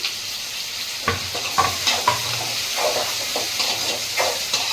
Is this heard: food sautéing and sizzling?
yes